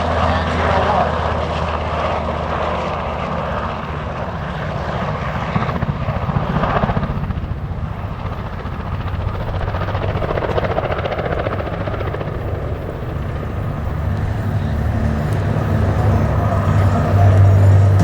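An RCAF CH-148 Cyclone helicopter makes a high-speed pass at an air show, its rotor and turbine noise rising to a loud, near peak mid-pass and then staying strong, with a low steady drone and crowd-area ambience.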